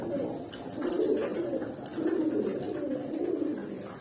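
Pigeons coo softly in low, repeated throaty phrases, a few close calls rising and falling in a gentle rhythm.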